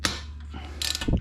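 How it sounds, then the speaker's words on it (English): Wrench breaking loose the front-wheel pinch bolt on a Harley-Davidson Sportster, a short metallic ratcheting and clicking burst with a sharp snap at the start and a grinding click near the end, close up. "We'll go ahead and remove the pinch bolt."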